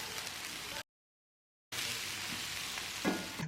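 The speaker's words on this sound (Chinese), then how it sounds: "把白菜帮给它炒熟炒香。" Chinese cabbage stems stir-fried in a hot wok over high heat with garlic and chili, a steady broadband sizzle broken by a short silent gap, then resuming with a brief louder scrape of tossing near the end.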